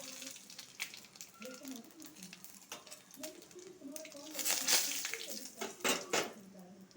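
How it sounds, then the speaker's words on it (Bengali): Cardamom, panch phoron and bay leaf dropped into hot oil, crackling and sizzling in bursts with clinks of a utensil against the pan, while a voice talks intermittently over the frying. "তেল গরম হয়ে গেছে এখন নিয়ে এলাচি দিব পাঁচফোড়ন একটু দিব আর তেজপাতাটা দিয়ে দিব"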